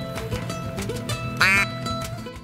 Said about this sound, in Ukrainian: Гарно качка налетіла, шкода, що не на нас.